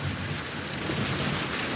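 Steady rainfall hisses evenly throughout, a dense continuous wash of drops with no voices and no pauses.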